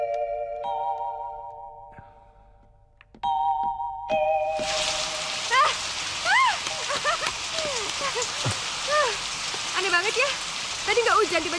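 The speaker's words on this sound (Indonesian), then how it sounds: "Tadi nggak hujan, tiba-tiba jadi hujan sekarang." Sudden steady rain hisses loudly and continuously after a chime-like tone, with voices and music playing over it.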